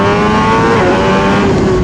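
A Suzuki GSX-R 1000 motorcycle accelerates on the street, a loud, steady, high-pitched engine howl with slight tire noise underneath, running close and continuous throughout.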